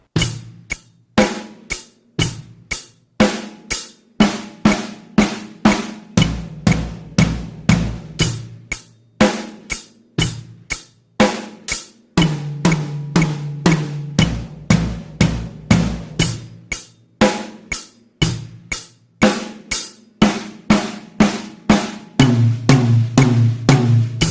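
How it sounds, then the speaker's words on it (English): A drum kit plays a steady eighth-note groove with repeated fills, sharp hits in a driving rhythm, loud and close. "Let's try this 8th note drum fill with that 8th note drum beat."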